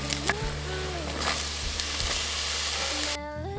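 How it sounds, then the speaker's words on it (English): Finely chopped garlic and mushrooms frying in oil for a pink pasta sauce, a loud, steady close sizzle with occasional stirring clinks, no talking. "adding finely chopped garlic to oil along with mushrooms"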